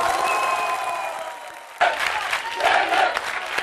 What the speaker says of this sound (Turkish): Onlara çok büyük bir alkış isteyeceğim